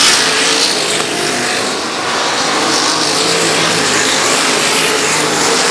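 A 360 race car engine roars at full power on the dirt oval of Valley Speedway, a loud, sustained howl with slight pitch swells as the car drives hard through the turn, with no talk over it.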